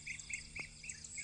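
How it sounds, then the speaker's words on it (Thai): Small birds chirp in repeated short high calls, fairly faint, over a steady outdoor background with no talking, in a garden at a country home on a bright day. "เสียงนก"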